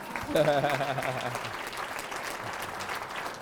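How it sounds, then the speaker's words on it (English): Crowd in a business chamber audience applauding volunteer ambassadors at a county executive's address, dense clapping rising over a sustained tone and voices, then continuing steadily. "give them some love, clap it up"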